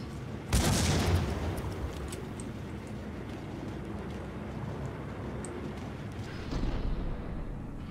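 A grenade explosion and gunfire from the Max Payne video game: a sudden loud blast bursts out near the start, a dense rumbling barrage of shots rolls on steadily, and a second, slightly louder burst swells near the end.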